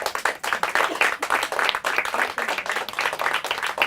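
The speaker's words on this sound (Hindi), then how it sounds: "तालियां हो जाए ऑडियंस।" Steady applause from a competition audience cheering on the last team at a quiz final, dense clapping filling the whole stretch without a break.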